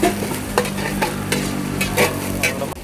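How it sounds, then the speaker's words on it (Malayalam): Onions and curry leaves sauté in hot coconut oil, a steady close sizzle broken by repeated scraping stirs of a spoon against the pan, with no talking. "വെളിച്ചെണ്ണ ചൂടാക്കിയിട്ട് സവാളയും കറിവേപ്പില ഇട്ട് വഴറ്റും."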